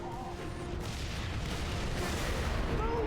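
Repeated grenade blasts and gunfire roll through a Halo multiplayer match, a dense, steady wash of booming combat noise with no single sharp standout.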